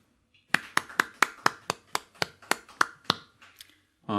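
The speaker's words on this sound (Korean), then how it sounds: "우리 하나님께 영광의 박수 올리겠습니다" A church congregation claps together in a steady beat during a Sunday service, about a dozen sharp, evenly spaced claps, then stops.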